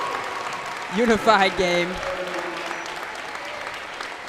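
A gym crowd claps at the end of a high-school Unified basketball game in Grandville. Steady moderate applause runs throughout, and a short burst of nearby talk rises over it.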